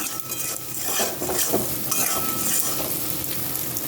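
Boiled potatoes and cauliflower cook with spices in a pan, a loud close sizzle punctuated by rapid scraping stirs and faint clinks of a spatula on metal.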